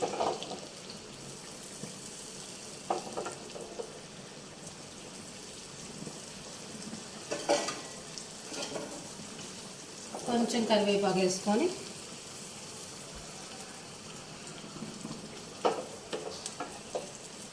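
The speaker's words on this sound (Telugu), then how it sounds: "కరివేపాకు బటర్లో వేయించుకొని" Curry leaves sizzle and crackle in melted butter for a chicken curry, a steady frying hiss with sharper spitting bursts midway, and a voice speaks briefly in between.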